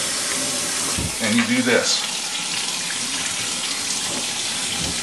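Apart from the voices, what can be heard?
cold water running full blast from sink tap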